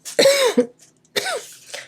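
Two sharp coughs, close and loud, separated by a short pause.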